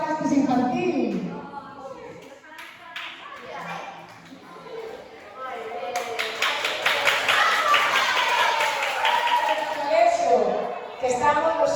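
Applause rises and holds for several seconds at a school end-of-year festival at CEIP de Caldelas, a crowd of hands clapping steadily with a voice speaking over the start and end.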